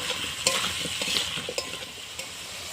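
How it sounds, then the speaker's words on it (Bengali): Potatoes seasoned with salt and turmeric sizzle in hot oil in a pan, a steady close hiss broken by sharp scraping stirs of a spatula, with no talking. "আলুটা এইভাবে লাল লাল করে ভেজে নিতে হবে এইভাবে"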